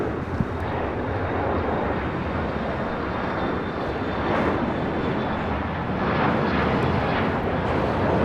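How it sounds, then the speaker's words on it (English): A Bombardier Global 7500 business jet takes off at LAX: a continuous broad jet roar, fairly distant and even, rising slightly in loudness as it climbs away, with wind buffeting the microphone. "This Global 7500 is taking off to Boston on VistaJet 785."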